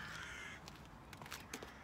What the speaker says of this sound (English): lots of crows here